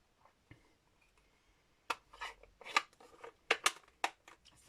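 Paper card for a stamping project being trimmed with scissors, a run of crisp snipping cuts after a quiet start, close and alone with no talking.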